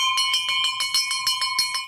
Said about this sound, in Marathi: जा घंटा वाजवा. वाजवा लवकर.